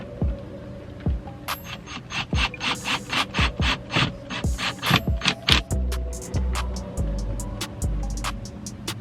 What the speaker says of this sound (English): then you're gonna just screw it back in place